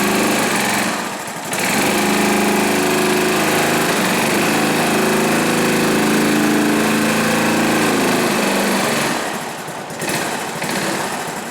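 The small engine of a 1970s Honda ATC three-wheeler runs close and loud in a steady buzzing drone, with grinding gear noise and a couple of brief dips in its pitch and level.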